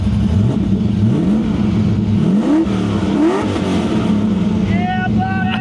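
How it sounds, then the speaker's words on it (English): A car engine revving up and down in repeated rising sweeps, loud and close, on a road trip from Florida to Arizona with a vehicle that may need towing; voices and a brief whistle-like tone come near the end. "Now rev it up and see if it gets towed."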